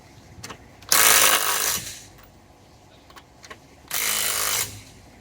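Power tool tightening the lug nuts on a wheel of an Oldsmobile Cutlass G-body, two loud close bursts of whirring and rattling separated by a quiet pause.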